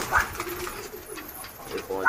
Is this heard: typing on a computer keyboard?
no